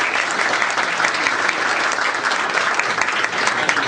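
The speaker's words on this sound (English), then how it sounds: "Give Dr. Epps a big round of applause." A crowd gives a loud, sustained round of applause for Dr. Epps at a governor's bill signing for a restaurant smoking ban, dense clapping filling the room without letup.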